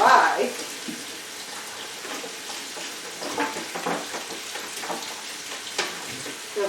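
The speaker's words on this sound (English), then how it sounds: "let's put some water on it because it's dry" Water poured onto the dry roots of a small Dendrobium orchid during repotting, giving a soft, fairly close splashing and trickling patter with a few brief louder splashes, and no talk.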